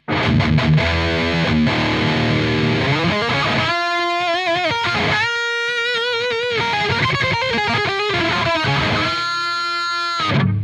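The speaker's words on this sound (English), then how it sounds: "It was a bit too much power tube distortion." An electric guitar played through a Soldano SLO-100 amplifier with heavy overdrive and power tube distortion, loud and saturated, with sustained crunchy chords and ringing single notes in a continuous run.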